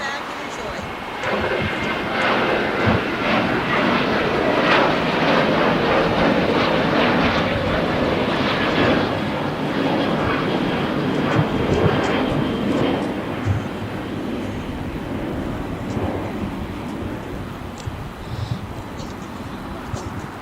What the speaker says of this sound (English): And Emirates has been cleared because they now have their takeoff lights on and ready to go.